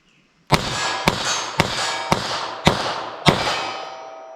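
Six sharp, loud shots from a pocket pistol firing .32 S&W Long rounds, evenly spaced about half a second apart, each cracking with a ringing decay, heard alone outdoors.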